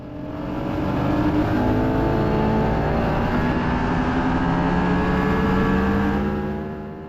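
A Ducati Panigale SP2 sportbike with aerodynamic wings laps Palmer Motorsports Park, its engine note rising steadily in pitch under hard acceleration, loud and close, then easing slightly as it shifts and holds speed.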